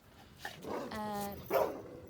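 A dog, one of several young male dogs, barks and whimpers close by in a short burst of yips and a drawn-out whining bark, with a human voice mixed in.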